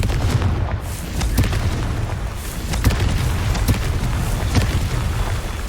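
Booming spell blasts from Confringo and Bombarda in Hogwarts Legacy, several sharp explosive bursts spaced through a Merlin trial, fairly loud over a steady low game background.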